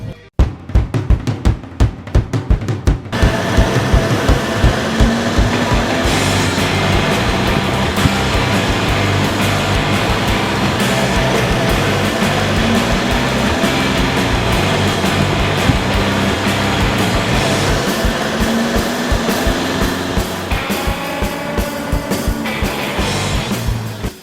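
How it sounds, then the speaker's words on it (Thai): Inside a Mercedes-Benz C350e plug-in hybrid on the road, a loud, continuous roar of engine and tyre noise holds steady, with rapid clicking ticks at the start. "งั้นเดี๋ยวปุ๊กขอลองแซงคันหน้าดูหน่อยนะ"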